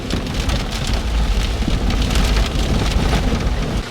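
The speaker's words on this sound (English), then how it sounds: "rain is just pumping down now as well" Heavy rain pours down steadily, a dense continuous hiss of drops drumming on a surface with no voices.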